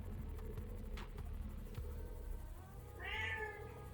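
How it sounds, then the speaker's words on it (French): Cat meowing indoors, one clear rising meow near the end, quiet but distinct over low background hum and faint clicks, no speech. "Je vais pas te vexer, hein, tu miaules bien."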